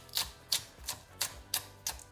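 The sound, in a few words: knife dicing spring onion strips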